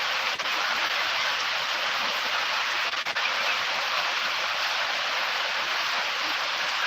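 Afternoon rain falling steadily over a rural province, a dense, even hiss that stays constant and close throughout with no voices over it.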